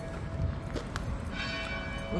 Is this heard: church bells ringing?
yes